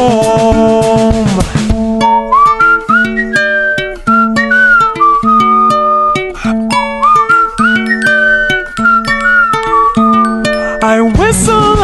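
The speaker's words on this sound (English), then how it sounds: "I whistle as I walk" A bright whistled melody wanders up and down over plucked, bouncy musical accompaniment, loud and continuous throughout.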